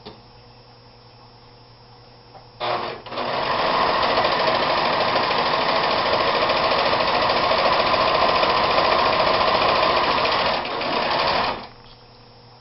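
A serger runs fast and steady for about eight seconds, stitching practice seams with a dense, even mechanical whir, starting and stopping abruptly with brief quieter motor hum before and after.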